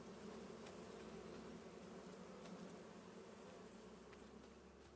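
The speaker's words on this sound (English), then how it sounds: "They have a lot of bees in here, huh?" Dense swarm of bees drones steadily in Farming Simulator 25, a continuous close, loud insect hum with a few faint clicks and no talking throughout.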